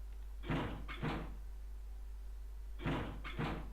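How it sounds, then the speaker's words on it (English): Locked doors in the 999 video game being tried one after another: four short rattling handle jiggles arrive in two pairs, fairly close, over a steady low hum with no talking. "they proceed to investigate each door in turn, but to no avail."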